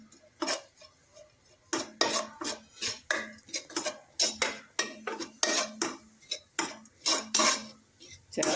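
Grated coconut is heated and stirred in a pan, with a run of sharp, close scrapes and clinks of a utensil against metal, repeating in a quick uneven rhythm with quiet gaps between strokes.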